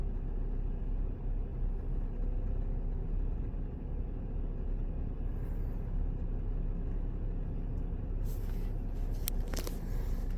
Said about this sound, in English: Well, the car is running.